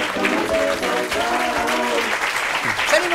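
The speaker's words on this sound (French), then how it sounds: "Je vous demande d'applaudir Monsieur Thierry Samitier." A studio audience on a French television show applauds steadily as a guest actor is welcomed, the clapping running under brief voices and a few tonal snatches of music or cheers.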